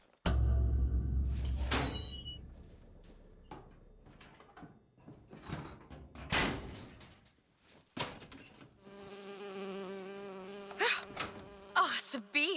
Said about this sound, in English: Oh, it's a bee. I hate these things.